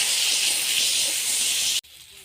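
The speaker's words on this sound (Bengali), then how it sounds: "এবার আমি শিম আর সজনে ডাঁটাটা ওর সাথে দিয়ে হালকা ভেজে নেব।" Beans and drumsticks hit a pan of frying potatoes, a loud, close, steady hissing sizzle that cuts off abruptly near the end.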